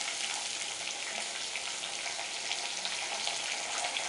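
Onion and whole masala frying in oil for keema, a dense, even hiss and crackle close up, steady throughout with no voices.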